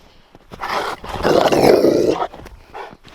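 A dog on an off-grid homestead growls playfully near goats, a rough, continuous rumbling growl that swells loud and close for a couple of seconds, broken by short grunts before and after.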